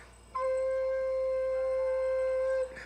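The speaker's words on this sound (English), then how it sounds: "but the low C sounds like this" A wind instrument sounds a single low C, one steady sustained tone lasting about two seconds, clear and close over a quiet background.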